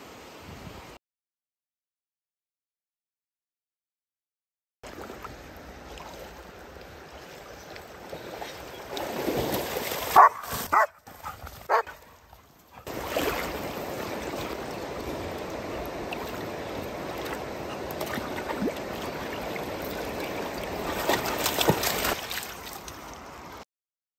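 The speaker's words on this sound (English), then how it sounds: "let these dogs have a splash in the water" Water sounds as dogs splash in a river near Finchale Abbey, broken and irregular at first, then a steady rushing, splashing wash that carries through the later part, with a near silent gap early on.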